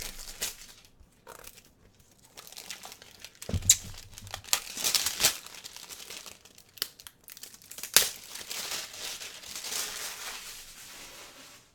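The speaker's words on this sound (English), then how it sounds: "Peel off this plastic." Plastic shrink wrap is peeled and torn off a Vampire: The Dark Ages game book, giving close crinkling and crackling with sharp tearing bursts, alone and fairly quiet.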